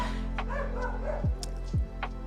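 Dogs bark twice in short, sharp bow-wow yips, fairly close, with some whimpering and faint background noise between the barks.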